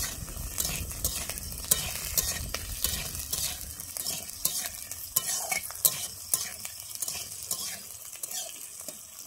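Green and yellow capsicum lightly fried in a pan for chilli chicken, with a soft, steady sizzle under frequent stirring scrapes and light clicks of a utensil against the metal.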